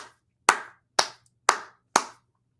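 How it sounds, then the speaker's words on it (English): Four sharp, evenly spaced hand claps ring out alone over a faint low hum, close and fairly loud, about half a second apart. "I'm applauding for all of you right now."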